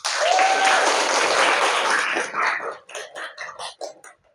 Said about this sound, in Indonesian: Ya, aplaus buat kalian